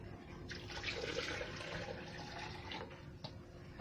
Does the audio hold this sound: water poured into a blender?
yes